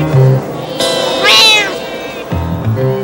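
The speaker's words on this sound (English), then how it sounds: "This blue cream Persian is called Scandal, but today she is not talking" A blue cream Persian cat at a cat show gives one drawn-out meow that rises and falls, close and clear over steady background hum and murmur.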